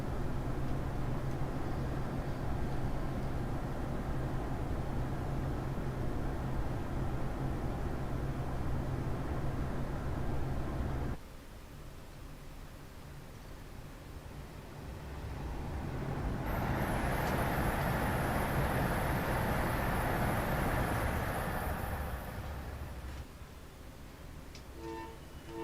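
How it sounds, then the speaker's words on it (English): A train runs in the Train Simulator 2021 game on a route toward Trenton, giving a steady loud rumble with a low hum that drops off partway through, then a hissy, brighter stretch before easing again. No voices are heard. "This train is cool, man."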